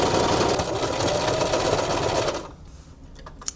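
A sewing machine runs a zigzag stitch along the side seam of a pair of shorts. It hums loudly and steadily for about two and a half seconds, then stops, leaving faint rustles and a small click.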